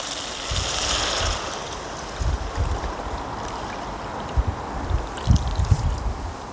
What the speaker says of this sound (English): Now I'm gonna add in the water.